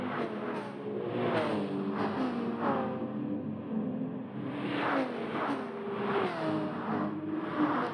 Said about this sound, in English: Huge train of cars coming up the mountain here.